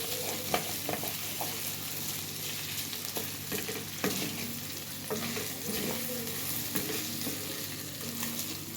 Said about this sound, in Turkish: Tuzunu attım, tereyağını da attım. Şimdi güzelce ne kavuruyorum arkadaşlar.